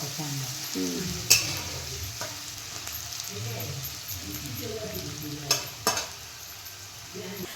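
Onions sizzle and sauté in hot oil with garlic, cumin and mustard seeds, a steady crackling fry stirred in a pan, with a few sharp utensil clinks and faint voices in the background.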